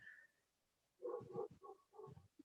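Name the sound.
German Shepherd dog upstairs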